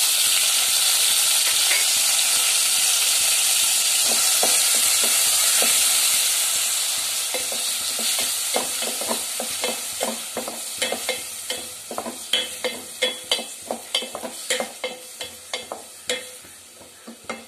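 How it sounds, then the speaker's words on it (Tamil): Small onions (shallots) sauté in a pan for bisi bele bath, with a steady bright sizzle at first, then a run of rhythmic spoon scrapes and clicks as they are stirred. No one speaks. "அப்புறமா வெங்காயம் போட்டுக்கோங்க, சின்ன வெங்காயம். இது வதக்கிடுங்க"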